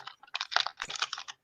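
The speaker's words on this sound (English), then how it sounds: "Is that your typewriter? That thing is loud." Loud, close typing on a computer keyboard, bursts of fast, crisp key clacks in quick irregular runs with short gaps between them.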